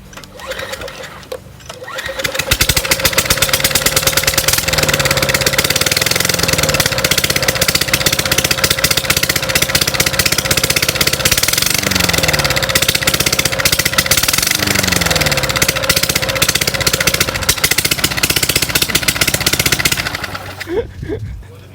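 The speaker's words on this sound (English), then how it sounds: "I straight piped your lawnmower." A loud, raspy lawn mower engine with open exhaust roars steadily for about twenty seconds, revving a few times before cutting off.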